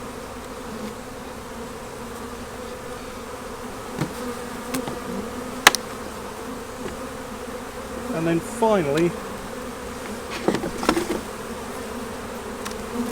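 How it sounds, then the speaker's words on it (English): Honey bees buzz steadily during a nuc transfer into a Maisemore commercial poly hive, a dense close hum with occasional knocks and clatter as the box is handled, while a voice speaks briefly. "I like to just shake all the bees out of the nuke box."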